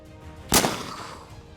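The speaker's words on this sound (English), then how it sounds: "And you hear a gunshot go off." A single sharp gunshot sound effect cracks out mid-clip, loud and close, followed by a brief decaying echo over a faint ambient bed.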